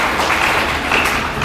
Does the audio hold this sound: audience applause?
yes